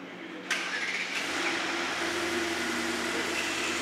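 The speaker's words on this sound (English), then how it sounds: "start the car up" A Mercedes GT63 AMG engine cranks and fires up, a sharp start followed by a steady, fairly loud idle that settles in and continues without talk.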